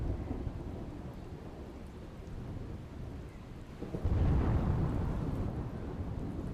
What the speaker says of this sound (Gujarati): ભારે પવન અને ગાજવીજ સાથે વરસાદનું આગમન